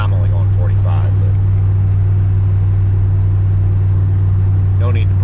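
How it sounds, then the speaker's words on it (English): A pickup truck with rebuilt suspension climbs a hill on the Grand Mesa, its engine a deep, steady drone heard from inside the cab, with brief voices at the start and end. "my truck had the suspension rebuilt on it last spring, and it's doing pretty good, so I can kind of haul ass up the hill"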